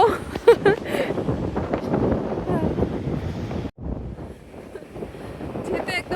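Strong wind at the seashore buffets the microphone with steady roaring gusts, heard under people talking nearby.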